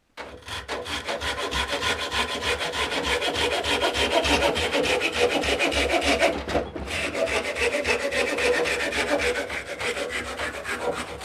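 Coleman folding saw cutting through a wet piece of wood about 2.5 inches thick, a steady close rasping back-and-forth stroke that runs continuously, with a brief pause midway before the sawing resumes.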